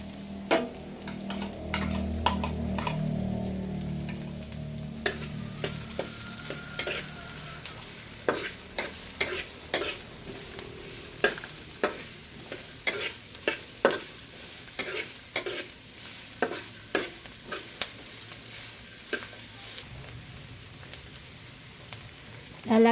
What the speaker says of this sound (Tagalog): Lalagay ko na po yung bawang at saka po yung sibuyas. Lalagay ko na po itong sibuyas na puti.